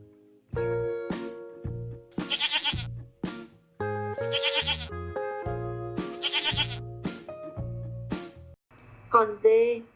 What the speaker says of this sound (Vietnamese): con dê, con dê, goat, goat,